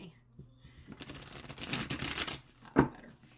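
Thick tarot cards being shuffled by hand, a dense riffling flutter building over a couple of seconds then ending with a sharp tap as the deck is squared, close and fairly loud.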